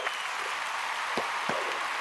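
An applause sound effect plays as dense, fairly faint hand clapping spread evenly throughout, with a couple of brief sharper sounds standing out partway through.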